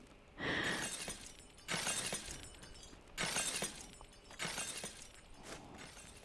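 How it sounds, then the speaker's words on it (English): Glass panes shatter repeatedly inside a train station being renovated in a first-person game, four loud crashes at roughly one-second intervals, each bursting and then tinkling away. "Just something about the sound of wanton amounts of shattering glass cracks me up"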